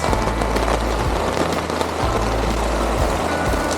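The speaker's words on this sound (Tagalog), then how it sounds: "Ang lakas kagad ng ulan guys oh." Heavy rain pours steadily onto a camping tarp at a moto-camping site in Apalan Woods, a dense, continuous hiss with a low drumming undertone and no pauses.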